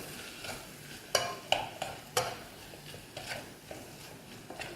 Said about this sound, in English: So we will stir this until the tomato starts breaking down.